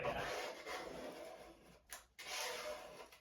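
A squeegee rubbing across a bathroom floor gives soft, close scraping swishes in two strokes, split by a brief pause, fairly faint.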